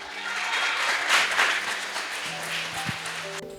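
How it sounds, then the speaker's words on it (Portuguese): A church congregation applauds during a service, a broad swell of clapping that rises and then eases, with a sustained organ or keyboard tone underneath and faint voices. "e aplauda o nome dele"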